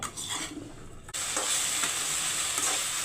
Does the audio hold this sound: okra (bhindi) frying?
yes